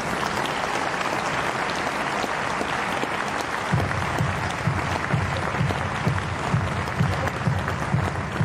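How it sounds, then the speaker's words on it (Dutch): An audience applauds at a women's doubles wheelchair tennis final, steady dense clapping throughout that grows slightly fuller and more rhythmic partway through, heard from within the crowd. "Dames en heren, mag ik nog een daverend applaus?"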